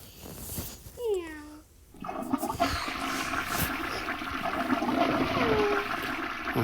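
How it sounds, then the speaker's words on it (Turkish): A toilet flushes in a cat pet video game, a steady rushing of water that starts abruptly after a cartoon cat's meows and runs on at moderate level to the end, with a voice speaking briefly early on. "sifona basmayı unuttuk baba"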